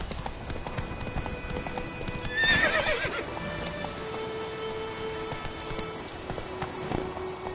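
Horse hooves clip-clop in a steady rhythm through The Witcher 3 game world, with a brief whinny partway through and light rain-like hiss underneath.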